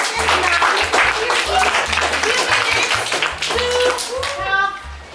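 A group of students applauds after debate arguments, a loud burst of clapping in a room with children's voices talking and calling out over it before the clapping fades near the end.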